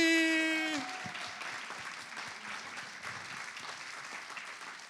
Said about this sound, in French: Un autre applaudissement pour Théo Kashani